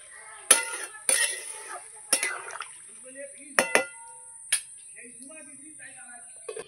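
Lid set onto a pot of tilapia curry with green banana after water is added, giving several close, sharp metallic clanks spaced apart, with faint voice-like murmurs in the quiet gaps.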